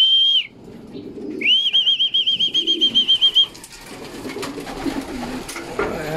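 Racing pigeons enter a loft trap with loud bursts of wing flapping close by, a rapid fluttering run lasting a couple of seconds, alongside a high steady electronic tone and soft coos and rustling afterward.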